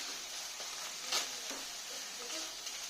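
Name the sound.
spice paste being fried in a pan for pomfret curry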